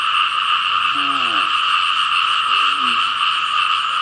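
Frogs call during a night frog hunt in the countryside, two close, low warbling croaks standing out over a constant dense chorus of distant frogs and insects.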